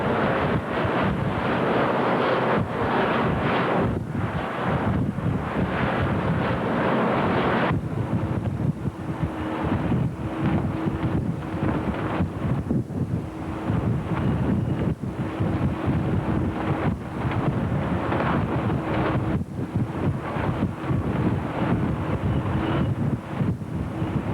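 Bitter cold wind buffets the deck of an oil tanker moored in Alaska in March 1989, a loud continuous roar with gusty surges, no voices.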